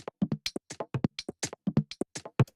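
A programmed house drum pattern from a sampler kit, with an LFO switching between drum samples, gives quick, fairly quiet hits in a fast, shifting rhythm, each struck sound slightly different from the last.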